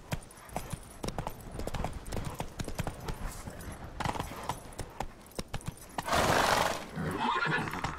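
Roach, Geralt's horse in The Witcher 3, gallops with quick, steady clip-clopping hoofbeats, then lets out a loud, drawn-out whinny near the end, close and clear with no talking.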